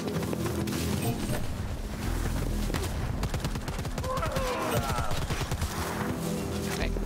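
Gunfire in the game Predator: Hunting Grounds: loud, dense bursts of rapid shots and volleys fill the scene nearly nonstop, with a few crashes and impacts mixed in.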